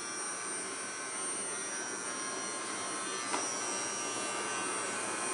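A household vacuum cleaner runs steadily close by, a constant high whine and airy roar holding level throughout with only a brief tick partway through.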